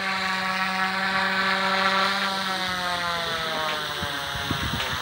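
Small RC helicopter with a brushless tail motor spinning steadily in idle-up, a loud, continuous whining buzz with bright harmonics, held close by and unbroken throughout.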